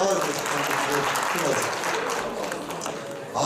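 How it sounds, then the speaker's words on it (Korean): Steady, dense applause from attendees at a sports taping workshop for traditional Korean archery instructors fills the room, with a brief spot of talk near the end. "박수 한번 주세요."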